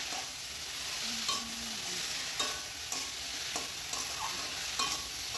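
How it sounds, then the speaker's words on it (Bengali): Mixed vegetables fry in a pan with five-spice and bay leaf, a soft steady sizzle broken by several sharp scraping stirs of a spatula, close and fairly quiet, with no talking. "তারপর এখানে বসিয়ে দিলাম 5 মেশালি একটা সবজি, 5 ফোড়ন আর তেজপাতা ফোড়ন দিয়ে।"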